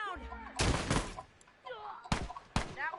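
Gunfire in The Last of Us multiplayer, three sharp, loud shots in quick succession, the first a longer burst, with a voice talking between them.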